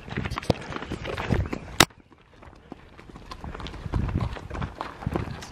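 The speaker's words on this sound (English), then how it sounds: "So the girls are gonna let all the horses out." Hooves of several horses clip-clop on hard ground as they are let out at a horse camp, irregular clattering steps, close by, with a sharp bang and brief lull midway.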